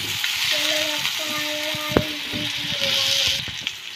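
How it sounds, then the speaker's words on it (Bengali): Potato pieces fry in hot oil for a Bengali tilapia fish curry, giving a continuous broad sizzling hiss with faint tonal whines and one brief sharp knock midway. "আলুটাকে ফ্রাই করে নেবে আগে"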